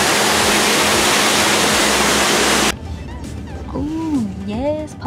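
Waterfall at Disney's Polynesian resort as a loud, steady rush of falling water that cuts off abruptly, followed by people talking nearby.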